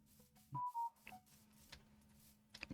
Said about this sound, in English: Phone notification.